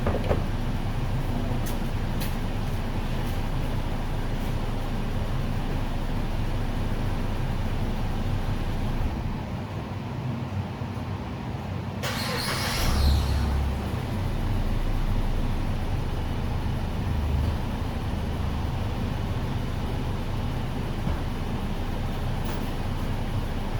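A Ford Escape engine runs again after a restart, giving a steady, unbroken low rumble that stays at an even level for the whole stretch, with no talking.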